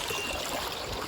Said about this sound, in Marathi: पक्ष्यांचा आवाज न पाण्याचा खलखल आवाज